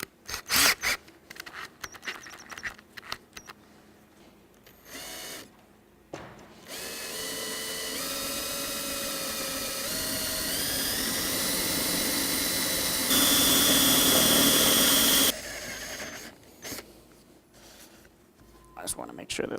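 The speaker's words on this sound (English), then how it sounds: "now we can take our drill bit" Power drill boring installation holes for a Himalia HM 50, with short bursts early and late around a long, rising whine in the middle; a person talks between the drilling spells.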